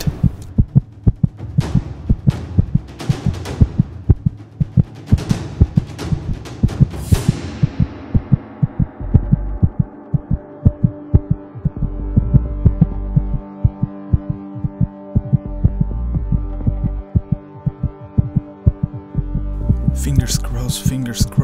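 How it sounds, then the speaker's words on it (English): A thumping heartbeat sound effect pulses steadily for about twenty seconds, loud, low double beats over a droning hum, with brief bright swishes near the start and end. "My heartbeat is going crazy"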